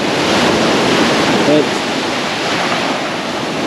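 Ocean waves wash steadily onto a secluded Koh Samui beach where the water reaches a brick wall, a loud continuous roar with wind buffeting the microphone and one brief spoken word.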